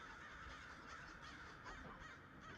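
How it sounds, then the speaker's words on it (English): Crows cawing outdoors at a steady moderate level, with several harsh calls overlapping a broad noisy background and no voices. "Crows. Love it."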